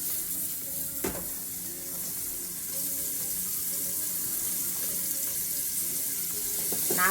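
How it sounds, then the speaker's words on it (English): Onions sizzle in melted butter in a pan for a vegan quinoa and kale patty meal, a steady close crackle and hiss with a brief clatter near the start and another near the end; no voices. "I melted down my butter and go ahead and add some of my onions in there"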